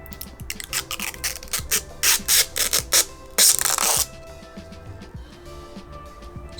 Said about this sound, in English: This little sticker, be sure to take that off.